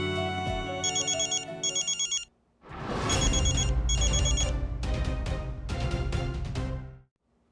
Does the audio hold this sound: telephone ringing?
yes